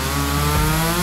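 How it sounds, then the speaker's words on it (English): A chainsaw snarls loudly and close up in a cartoon kitchen food challenge, its motor note dropping and shifting pitch halfway through the short burst. "Chainsaw?"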